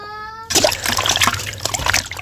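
Pieces of pre-roasted cow foot are washed in water for a village stew, with close splashing and sloshing that starts abruptly after a short tonal hum and continues busily.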